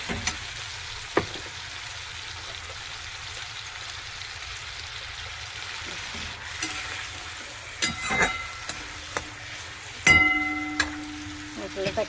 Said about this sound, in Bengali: মশলাটাকে একটু ভেজে নিচ্ছি